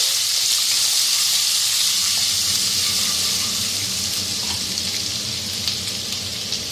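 Ginger garlic paste with three bay leaves (tej patta) sizzling in hot oil for paneer do pyaza, a steady, close, continuous frying hiss with no voices.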